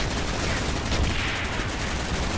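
FAMAS rifle fire in a Call of Duty game, a dense, steady stream of rapid gunshots holding at one loud level for the whole stretch, with no voices over it.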